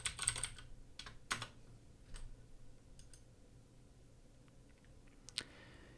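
Keys on a computer keyboard are tapped while a password is set during an Ubuntu Linux install in VMware Workstation, giving a few faint, scattered clicks with quiet gaps between them and no voices.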